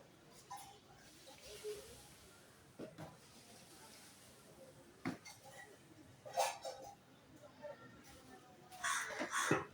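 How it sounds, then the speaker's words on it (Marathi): Crows call in a large jamun tree overhead, giving several scattered caws at moderate distance over faint outdoor background, with occasional distant voices. "बघा पक्षी आहेत वरती कशी ओरडतात"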